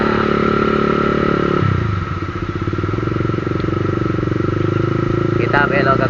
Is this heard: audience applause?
no